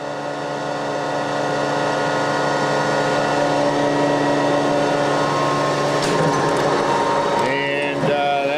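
A Cincinnati HyPowermatic 215-156 horizontal bed-type production milling machine hums loudly and steadily with a tonal drone, then clanks and shifts pitch near the end as it changes motion.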